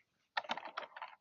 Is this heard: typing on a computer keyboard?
yes